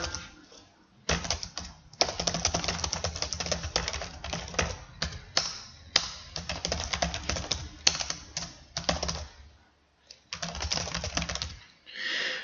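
Rapid, close clatter of a computer keyboard while typing a letter in a word processor, in bursts of keystrokes separated by short pauses, without talk.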